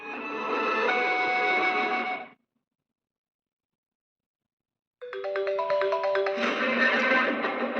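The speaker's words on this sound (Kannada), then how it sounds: "ಸತ್ಯನಿಗೆ ಒಂದ್ಸಲ ಕಾಲ್ ಮಾಡೋಣ" A phone ringtone plays during a call, a tonal, slightly distorted melody heard in two bursts separated by a few seconds of silence, fairly quiet and with no talking over it.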